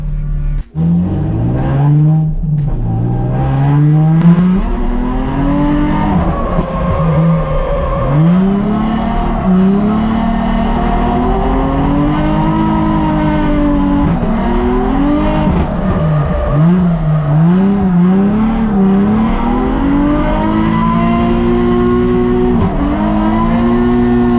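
A car drifting with the handbrake in a racing video game, its engine loud and continuous, revving up and down while long tire squeals whine and slide throughout, with no pause.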